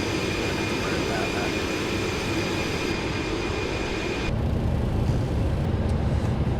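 A FedEx airliner in Microsoft Flight Simulator 2024 descends toward Rovaniemi, its engines producing a continuous loud roar and hiss that drops to a lower rumble partway through.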